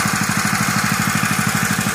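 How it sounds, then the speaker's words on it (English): An oversized water pump engine idles at a gold highbanking setup with a Gold Hog Mini sluice, giving a steady, loud, close putter with even rapid pulses. "I've got way too big of a pump. Sitting there idling."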